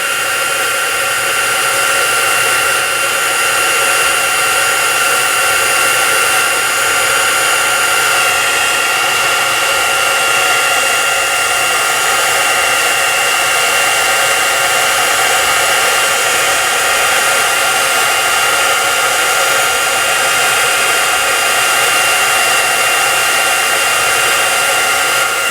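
A dryer runs continuously, drying a stenciled embossed card with a loud, steady, unbroken whoosh that holds at the same level throughout, close to the microphone.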